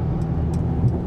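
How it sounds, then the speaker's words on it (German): Diesel engine of a Mercedes E 300 de plug-in hybrid estate cutting in while the car pulls away, a steady low hum and drone heard from inside the cabin, fairly loud and even throughout. "dass sofort der Motor mit angeht"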